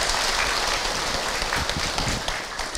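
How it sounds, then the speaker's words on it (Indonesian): Audience applause at an Islamic talk-show circle, a steady broadband clapping wash at moderate level filling the whole moment without pause. "Tepuk tangan untuk Ahilman."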